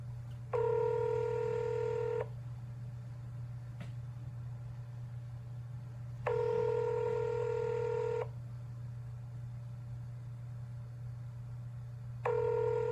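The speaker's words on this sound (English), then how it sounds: "calling Pat Roberts" Touch-tone telephone dialing while calling a U.S. senator's office: three loud, steady multi-tone beeps, each about two seconds long, separated by pauses over a constant low hum, with no talking.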